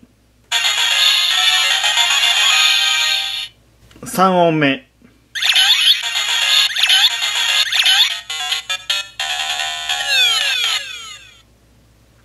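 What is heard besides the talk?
toy game clear and game over sounds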